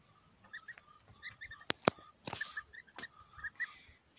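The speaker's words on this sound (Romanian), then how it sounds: "aici o gâscă și un gâscan" A goose and a gander honk several times in short, scattered calls, fairly close, with a couple of sharp clicks in between.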